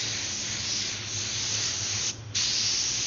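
A paint spray gun, a Halo model with a 1.3 tip spraying base coat, hisses steadily onto a sprayer card, a loud continuous spray that breaks off briefly near the end before resuming.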